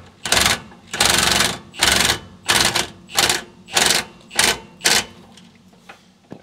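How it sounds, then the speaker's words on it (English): Impact wrench snugging a rear shock bolt on a 2017 Ram 1500 during a Bilstein 4600 shock install, firing in seven loud, evenly spaced hammering bursts with short pauses between, alone without talk. "Gently snug it with the impact."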